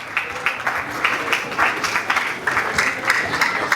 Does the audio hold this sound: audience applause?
yes